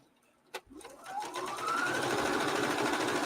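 A sewing machine starts up with a click and spins up into a fast, steady whirring hum of stitching, close and continuous.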